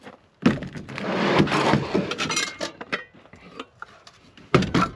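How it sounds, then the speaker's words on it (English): Cast iron and metal pans are handled in a truck camping kitchen setup, with clanks, scrapes and knocks in irregular bursts, close and fairly loud, followed by a few lighter taps and a final clatter. "I keep three pans in here."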